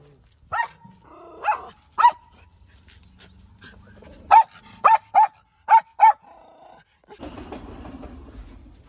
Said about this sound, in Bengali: কুকুরটা ভয়ে পালাইলো।